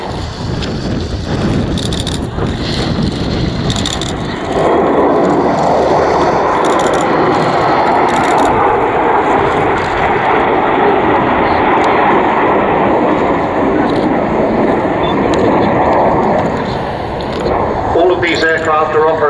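Vulcan XH558 bomber flying past at Dunsfold with three Folland Gnat jets in formation, a broad loud jet roar swelling and holding as the aircraft pass, mixed with wind noise on the microphone and someone talking.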